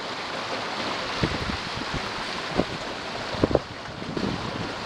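A Mudhen sailboat under way at four to five knots, with steady broadband wind rush over the microphone and water washing along the hull, broken by a few soft splashes and slaps from the waves.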